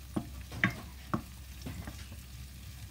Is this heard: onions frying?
yes